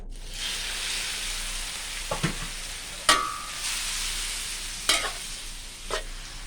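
Noodles for rad na sizzle and hiss in a hot oiled wok, with a few spatula scrapes and clanks breaking through the steady frying noise.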